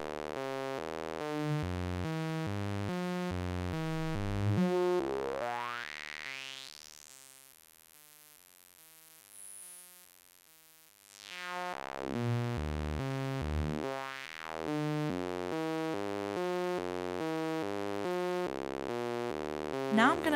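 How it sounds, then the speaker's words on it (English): A Dreadbox Whiteline Eurorack synth, fed through a high-pass filter, plays a repeating tonal sequence. A filter sweep thins the sound to a quiet, high whistle midway, and then the full pulsing pattern returns. "Let's try the high pass filter."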